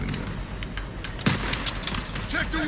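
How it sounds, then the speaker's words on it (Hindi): Sniper gunfire in the World War II shooter game Call of Duty WW2, during a church escape level: sharp shots crack over a steady wash of battle noise, with a louder blast near the middle. "पूरा सामने से गोलियाँ पड़ रही हैं"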